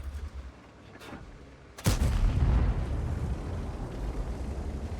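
A Leopard 1 tank cannon fires once in a video game, a sharp, loud boom with a rumbling tail that lingers for a few seconds over faint background noise.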